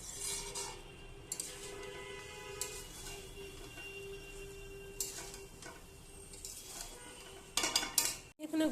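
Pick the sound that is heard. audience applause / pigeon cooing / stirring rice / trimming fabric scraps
stirring rice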